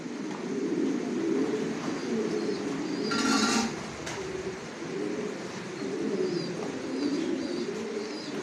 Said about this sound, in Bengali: কোয়ালিটি সম্পন্ন কবুতর পালি